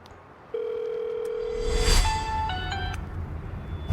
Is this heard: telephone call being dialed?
yes